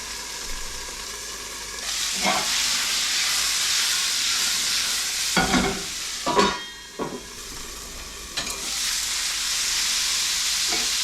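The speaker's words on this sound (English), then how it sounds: "I'm gonna add a lid just to help them steam." Fiddleheads sizzling and steaming in a covered pan, a steady loud hiss of frying with a few clattering knocks of the lid or utensil midway, no voices.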